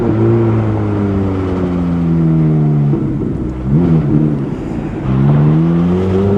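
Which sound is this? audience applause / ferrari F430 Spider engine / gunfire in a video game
ferrari F430 Spider engine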